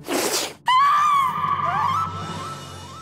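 A woman's loud, sustained scream bursts out after a short noisy lead-in and holds strong for over two seconds before tapering, close and alone in a Hindi TV drama scene.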